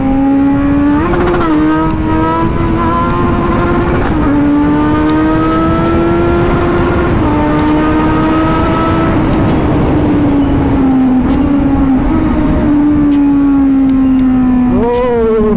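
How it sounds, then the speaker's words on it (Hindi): A high-revving car accelerating hard on a road during a drag race against superbikes, a loud, close engine note climbing and falling through gear changes, with harsh crackle that may include backfire pops. "ओ भाई बैक फायर भी मार रही है कार"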